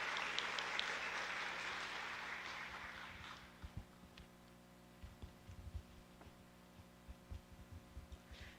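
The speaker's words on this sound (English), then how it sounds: "Let's give them a big round of applause." A high school senior honors audience applauds scholarship recipients, a full round of clapping that fades after about three seconds, leaving a steady hum and scattered thumps.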